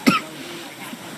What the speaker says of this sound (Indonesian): Maaf saya batuk ya Bapak Ibu